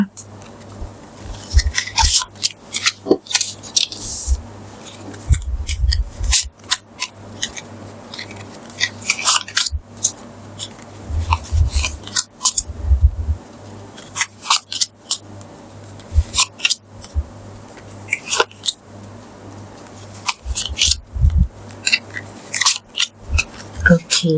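Tarot cards are handled close up in a series of sharp flicking, slapping and rustling bursts with short pauses between them, while someone speaks softly throughout.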